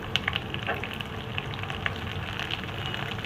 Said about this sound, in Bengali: এবার এই পেঁয়াজটাকেও দিয়ে দিচ্ছি